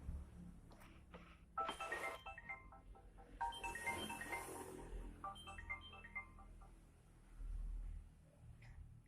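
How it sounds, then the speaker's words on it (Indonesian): A telephone rings indoors during a gathering, a faint electronic ringtone of stepped melodic tones repeating in short phrases over low background noise, with no one talking over it. "siapa sih yang telepon masih ada acara kayak gini?"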